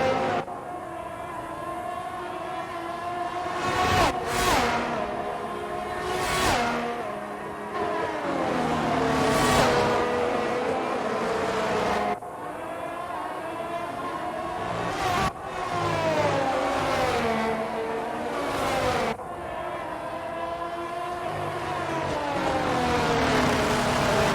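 Formula 1 race cars at the 2022 Bahrain Grand Prix, loud high-pitched engines rising and falling through gear changes as cars pass and accelerate, with several sharp swells.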